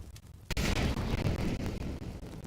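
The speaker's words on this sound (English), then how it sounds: "Incendiary's up" An incendiary grenade in the video game CS:GO, heard during a professional match, bursts with a sudden whooshing roar that keeps burning loudly and steadily for about two seconds.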